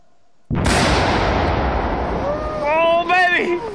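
A beaver dam blown apart by an explosive charge outdoors, a sudden loud blast followed by sustained roaring, rushing debris and water noise, with excited voices rising toward the end.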